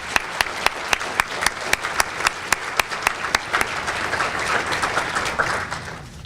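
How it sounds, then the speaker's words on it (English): A crowd at a volunteer awards breakfast applauds steadily, with a few sharp, evenly spaced claps standing out above the broad clapping. "one more big round of applause for all of our individual nominees"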